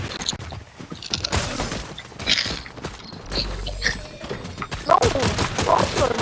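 Gunfire in the video game Fortnite, with bursts of shots and footsteps at a steady loudness, overlapping with people chatting throughout.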